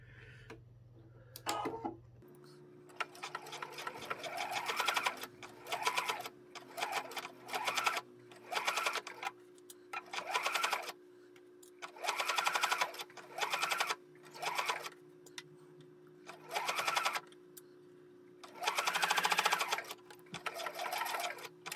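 Sewing machine running in repeated bursts as it stitches a 10 mm seam on the pieces of a baker boy newsboy cap, a close rapid whirring chatter with short pauses between runs.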